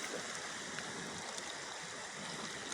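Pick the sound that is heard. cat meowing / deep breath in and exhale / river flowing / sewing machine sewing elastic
river flowing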